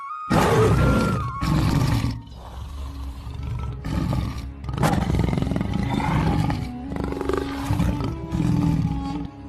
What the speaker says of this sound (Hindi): ये तो शेर की आवाज है।